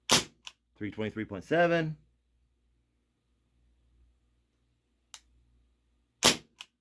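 Ruger P345 airsoft pistol firing 30-gram aluminum BBs, two sharp close cracks several seconds apart after a short spoken reading, with near silence between them.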